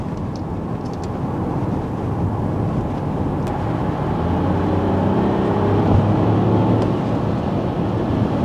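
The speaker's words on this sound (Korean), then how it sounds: "이게 RPM 한 4000 정도 도달했을 때부터 엔진음이 들리기 시작하는데요." A Mini Countryman gasoline engine in sport mode hums from inside the cabin, a steady low drone with faint road noise that slowly rises in pitch as the revs climb.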